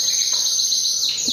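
An imported SF canary sings a steady high, bright warble with rapid trills and twittering, near and loud, with no voices over it.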